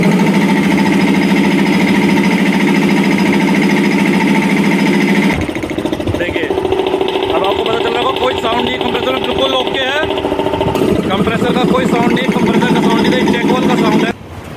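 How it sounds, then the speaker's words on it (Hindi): An air compressor, run after its worn check-valve washer was replaced, gives a loud, steady mechanical hum with strong tonal drone; its pitch and texture shift noticeably partway through, then it continues running close by. "अब चला के चेक करते कंप्रेसर की आवाज़ आ रही कि नहीं आ रही"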